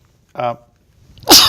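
A single person sneezes during an interview, a short voiced intake followed by a loud, sharp burst of breathy sneeze noise, close and alone in an otherwise quiet room.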